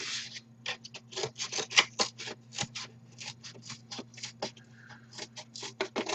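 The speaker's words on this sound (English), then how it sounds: "use a pair of scissors." Quiet, rapid snips of scissors cutting tabletop cavern terrain pieces, a long irregular run of short crisp clips over a faint steady electrical hum.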